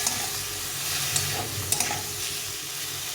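Bitter gourd and potato pieces being stirred in a hot pan with spices give a soft sizzle, with a few sharp spoon scrapes and clicks against the pan.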